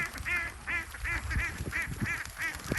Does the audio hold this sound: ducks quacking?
yes